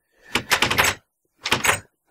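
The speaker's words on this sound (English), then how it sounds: "Thanks for slamming the door in my face." A door slams in a video game: two loud, close, broadband impacts about a second apart, the first longer and rattling, each dropping quickly to silence.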